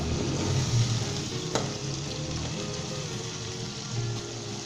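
Chicken fries with ginger and garlic on a high flame, giving a loud, continuous, close sizzle with one brief sharp tap from a utensil.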